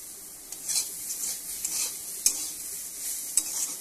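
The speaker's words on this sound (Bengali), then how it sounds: "এখন ভালোভাবে মিশিয়ে দেব।" Fried banana stem being stirred with sugar in a pan: a soft scraping, sizzling texture broken by a few sharp spatula clicks against the metal, close and steady.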